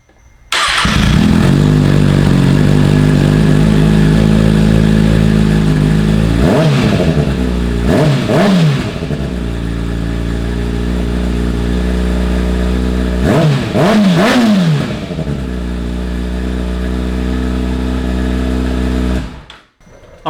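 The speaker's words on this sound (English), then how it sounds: "let me go ahead and fire up the bike again and give it a couple of revs" A motorcycle fitted with an M4 Street Slayer exhaust idles loudly up close, then gets revved sharply twice in quick succession, with another pair of revs a few seconds later, settling back to a rumbling idle before cutting off.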